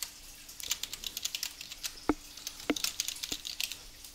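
Rapid clattering of keys on a computer keyboard while entering an email address and password during a website registration, a steady run of light clicks with a few sharper, louder key strikes mixed in, close and alone.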